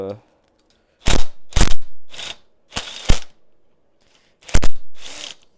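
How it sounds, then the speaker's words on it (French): Manual impact driver struck to loosen a screw on a 125–140 cc dirt bike engine top end: four sharp metallic hammer blows, some doubled, spaced about a second apart with near silence between. "je pense qu'on va faire la clé à choc manuelle"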